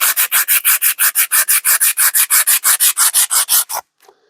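150-grit sandpaper scuffs the head of an old brass hammer in about twenty quick, rhythmic back-and-forth strokes, loud and close, ending in a short pause and a faint knock.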